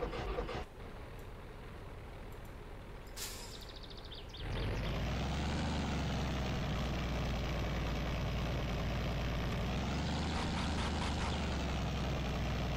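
A heavy log-hauling truck in My Summer Car idles low and steady, then its engine loads up into a loud, sustained drone that holds to the end with no talking.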